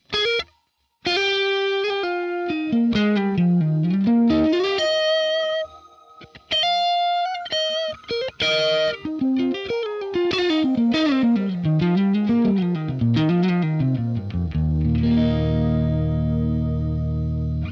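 Heavily effected electric guitar through a Fractal FM3 reverb effect with a synth-like, gliding tone, notes bending and tracking smoothly, ending in a sustained distorted chord.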